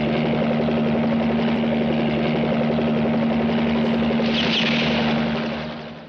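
A helicopter in Africa drones steadily and loudly with a constant low engine hum and rotor throb, fading slightly at the end, with no talk.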